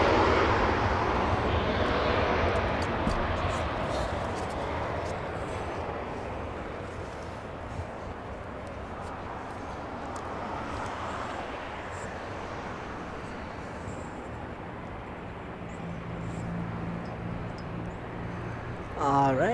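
Emirates Airbus A380 airliner taking off from Los Angeles International Airport, a broad sustained jet roar that stays steady, swelling slightly near the end, with people talking over it.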